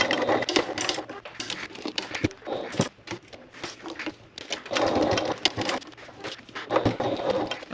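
A sewing machine back stitching down through a vinyl tote flap attached to the main panel, heard as bursts of rapid mechanical stitching broken by short pauses, close and fairly loud, with no talking.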